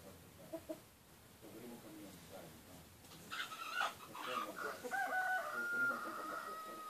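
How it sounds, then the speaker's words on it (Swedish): A chicken on a farmyard visit calls in short clucks, then gives louder, drawn-out vocalizing in the second half, heard fairly close with quiet voices in the background. "denna höna här."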